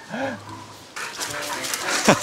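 A free-roaming dog pants rapidly and close by on an old mountain trail, a short stretch of quick breathing with a brief whimper-like tone at the start.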